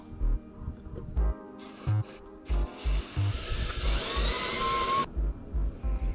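A power drill with a hole saw whines and grinds through material in short bursts, with a rising, scraping cutting sound in the middle before it stops.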